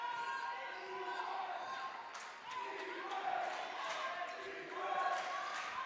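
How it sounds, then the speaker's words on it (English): Spectators cheer and clamour at a girls' high school basketball game, the crowd noise rising in swelling waves after a basket, with voices and excitement carrying through the gym. "So you can hear the crowd start to get a little bit more excited here after that bucket."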